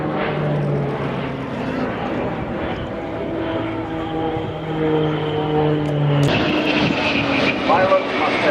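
Jet aircraft flying an aerobatic display at the RIAT 2014 airshow, a loud sustained engine roar that shifts pitch as the jets pass, with announcer commentary over it.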